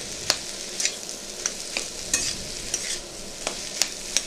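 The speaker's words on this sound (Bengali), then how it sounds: "মশলাটা ভালো করে ভেজে নিচ্ছি।" A spoon stirs spice masala frying in a pan for singara filling, a steady low sizzle broken by regular scraping strokes about every half second, close and clear with no talk.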